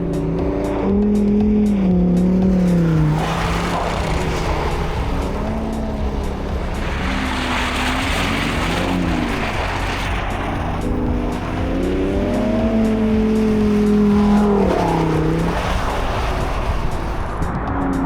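A Lamborghini circles a skid pad on a frozen lake, its engine note rising and falling in sweeping revs as it slides, loud and continuous throughout with no talk over it.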